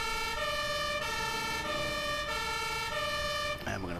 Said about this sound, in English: Lights on, sirens on.